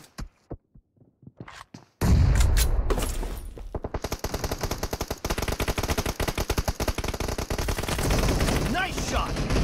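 Rapid automatic gunfire from a team deathmatch in a video game, a few sparse shots at first, then a loud, dense, sustained burst of fire that keeps going to the end.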